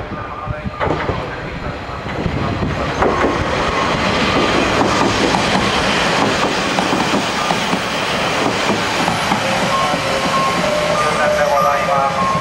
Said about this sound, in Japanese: 一番乗り場に松江方面行きの列車が参ります